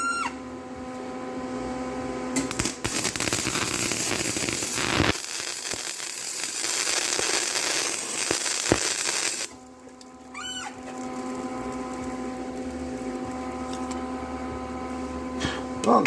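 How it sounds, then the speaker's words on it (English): A flux-core welding pass throws spatter, producing a loud, harsh crackling buzz for about four seconds amid a steady machine hum, followed by quieter workshop hum and brief clicks. "Some good old-fashioned, messy, spatter-flying flex core welding"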